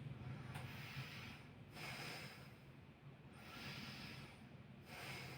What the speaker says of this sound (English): can you inhale and exhale for me